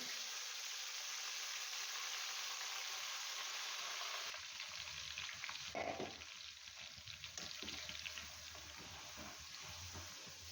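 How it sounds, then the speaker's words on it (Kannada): Curry leaves frying in oil for a homemade herbal hair oil, giving a continuous faint hiss and crackle of hot oil, quiet and steady, with a few soft bubbling surges partway through. "ಅದೇ ಎಣ್ಣೆಗೆ ಹಾಕಿ ಫ್ರೈ ಮಾಡು"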